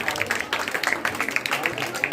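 A crowd at a school archery competition claps rapidly and continuously to welcome competitors, the brisk patter of many hands mixed with an announcer talking over it.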